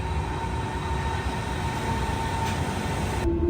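Train rumble and rolling wheels in a Munich station, a steady low roar with a faint squeal tone, loud and constant with no talk.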